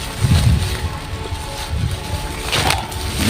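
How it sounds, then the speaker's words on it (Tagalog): Strong wind buffets the microphone, a steady low rumble with gusty swells throughout, plus a faint hiss. "Lakas ng hangin dito mga kadol."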